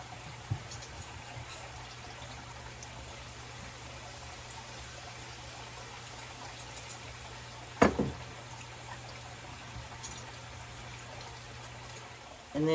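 Dr Pepper Zero Sugar poured into a slow cooker, a soft steady stream of liquid running for several seconds, broken by a sharp knock partway through and a thump at the end.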